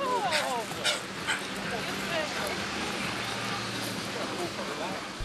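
Dogs at an annual charity dog walk in Port Moresby bark, yip and whimper faintly through a busy outdoor crowd ambience, the calls scattered and distant rather than close.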